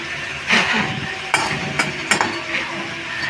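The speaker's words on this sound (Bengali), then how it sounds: "এই বাদাম ভেজে নেব" Peanuts frying in a pan on a gas stove alongside green chillies and turmeric, giving a steady close sizzle with a few sharp scrapes or taps of a utensil stirring through it.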